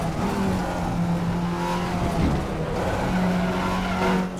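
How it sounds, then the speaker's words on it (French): Race car tires squeal in RaceRoom racing game while the engine drones steadily, a long loud skid that rises and fades as the car corners through a lap. "On repasse en 3 ici, de nouveau des crissements des pneus."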